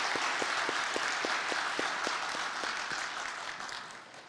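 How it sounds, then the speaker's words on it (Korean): Congregation applauding during a Sunday church worship service, a steady wash of many hands clapping that holds for a few seconds and then slowly fades away. "박수하겠습니다."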